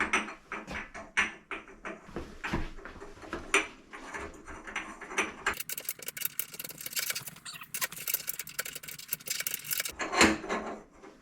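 Metal parts of a Royal 5C collet closer adjusting nut assembly being threaded together by hand, giving irregular close clicks, scrapes and ratcheting rattles, getting denser and busier partway through, with no talking.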